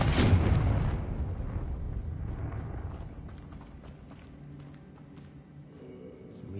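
A Confringo fire spell explodes in the Hogwarts Legacy video game: a loud burst at the start that fades into a rumbling tail with scattered crackles and small impacts.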